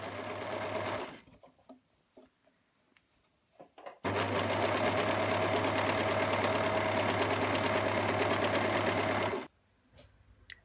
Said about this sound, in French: On zigzague ou on surjette les valeurs de couture ensemble.